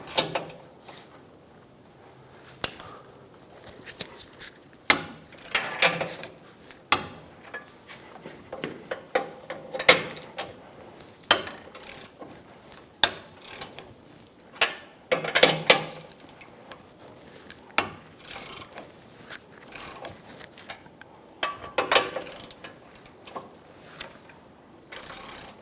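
A ratchet loosens the nuts on a rear leveling kit of a 2014-2018 Chevrolet Silverado 1500, making bursts of close metallic clicking in repeated strokes separated by short pauses.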